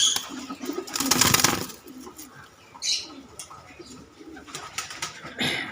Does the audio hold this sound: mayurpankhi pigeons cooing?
yes